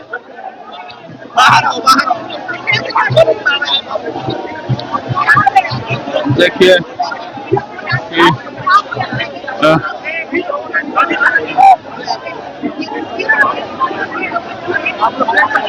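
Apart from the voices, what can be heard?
large crowd of supporters cheering and chattering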